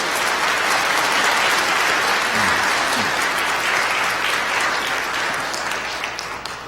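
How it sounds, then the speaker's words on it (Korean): A church congregation applauds in welcome during a New Year's Day Sunday service, steady dense clapping throughout that thins slightly toward the end, with no talk over it. "이 시간 인사드릴 때 여러분들 따뜻한 환영의 박수 부탁드리겠습니다."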